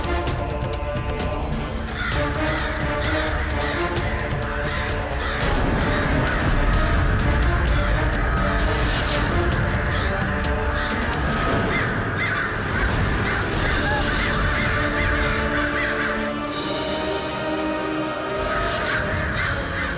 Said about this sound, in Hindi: ये कौवे कर क्या रहे हैं?